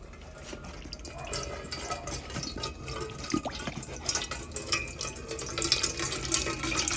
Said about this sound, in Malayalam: ഇപ്പൊ നമുക്ക് തേങ്ങ പൊട്ടിക്കാം